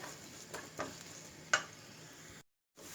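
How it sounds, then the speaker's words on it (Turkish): Quiet steady sizzling of onion frying in a pan with a few scraping stirs and one sharper clink of a utensil, then a brief cut to silence. "Bir tane soğanı yemeklik doğrayıp bir güzel kavuralım."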